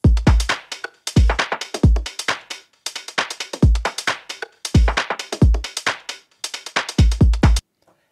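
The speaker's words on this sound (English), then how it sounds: "I have this basic drum loop that we can use in this tutorial" A basic UK garage drum loop repeats about twice per second, with punchy deep kicks, crisp snares and shuffling bright hats in a swung, broken rhythm, loud and dry, ending abruptly.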